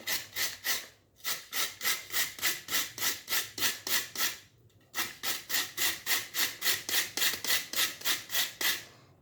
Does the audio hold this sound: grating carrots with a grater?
yes